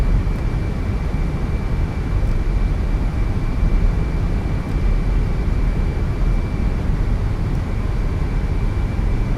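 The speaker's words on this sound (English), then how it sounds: "Oh, that was a rough landing. Very rough." A Tri-Star airliner in a flight simulator game makes a rough nighttime landing, its loud continuous engine and airframe rumble droning steadily throughout with a thin high tone running across most of it.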